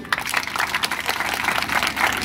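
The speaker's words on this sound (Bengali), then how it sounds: "সকলের জন্য আমরা আবার একটা করতালি দিই।" A crowd gathered at a public rally bursts into sustained applause. Dense, steady clapping fills the whole clip, with faint voices mixed underneath.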